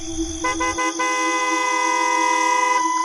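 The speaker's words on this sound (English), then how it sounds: "hearing the honking of their car's horn" A car horn blares in a long, steady honk, loud and close, preceded by a couple of brief stuttering toots.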